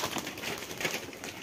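Pigeons, including a female and a male Giribaz, coo softly in a short, fairly quiet burst with some faint rustling behind them.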